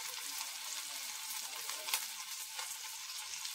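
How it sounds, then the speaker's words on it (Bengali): Chopped square-cut onions frying and being stirred in a pan for a vegetarian jackfruit chilli, a steady close sizzle with soft scraping and a few brief louder crackles, no voices. "এভাবে পেঁয়াজগুলো আমি একটু সামান্য নেড়ে নিলাম।"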